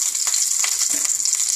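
Mustard seeds sizzle and crackle in half a spoon of hot ghee while tempering, a close, steady frying hiss with scattered pops running throughout, no talking.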